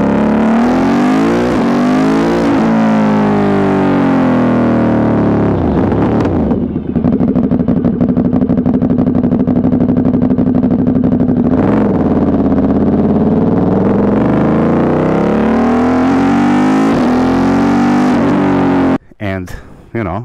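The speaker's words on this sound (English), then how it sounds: "I think the dBs that come out of my exhaust are a little too high for the mic to handle." Motorcycle exhaust roaring continuously while riding, picked up by a wireless mic in a backpack and heavily distorted and clipped, with the engine note rising and falling through gear changes before cutting off abruptly near the end.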